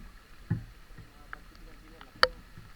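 Small boat moving through floodwater, with faint sloshing and a few soft knocks and splashes against a quiet background.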